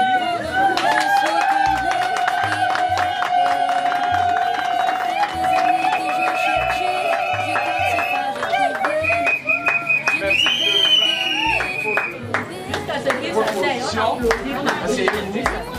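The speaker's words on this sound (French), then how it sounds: "Vous pouvez les applaudir" Guests at a civil wedding ceremony applaud with scattered, uneven clapping amid crowd chatter and a few sustained tones, loud and close for several seconds.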